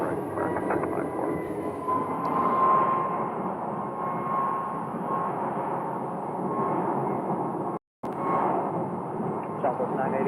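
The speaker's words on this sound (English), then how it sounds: "American 694, runway 25 right, clear for takeoff." An American Airlines jet rolls for takeoff on runway 25 right at Phoenix airport, a loud, steady jet engine roar that continues with little change, broken by a short dropout near the end.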